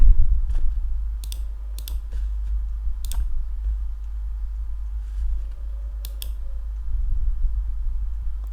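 Mouse clicks on a Run and Debug button in a code editor: a handful of sharp, close clicks scattered irregularly over a low steady hum, with no talking.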